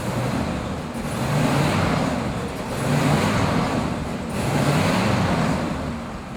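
A 1976 Cadillac Eldorado Convertible cruises quietly on the road, a soft steady rumble of engine and tire noise that swells and eases gently in a slow rhythm, with no voices.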